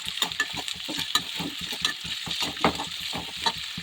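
Onions and green chillies fry in hot oil, a close crackling sizzle broken by rhythmic scraping and stirring strokes throughout, with no voices.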